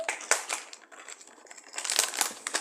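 A candy packet is torn open by hand, close crinkling and rustling of the plastic wrapper in irregular bursts, busiest at the start and again toward the end.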